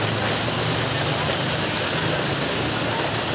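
Heavy rain pours down steadily around a food delivery rider, forming a dense, even hiss that carries on without a break and masks everything else.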